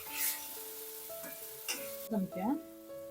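Onions sautéing in oil as they start to brown. Short bursts of sizzle and stirring scrapes sound under sustained musical tones.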